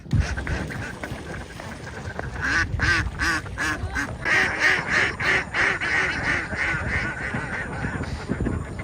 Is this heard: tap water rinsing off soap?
no